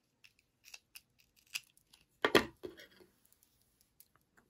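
Scissors snip through a crochet yarn tail on a small dog bootie, a soft scattering of light clicks and handling noise followed by one louder, crisp cut near the middle, close and quiet with no talking.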